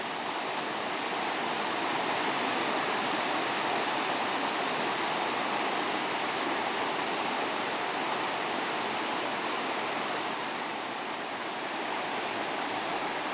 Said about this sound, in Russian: Величественный Джуринский водопад во всей своей красе.